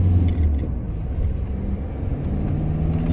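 A car engine rumbles steadily up close, a low continuous drone holding on for several seconds as the vehicle pulls away under throttle.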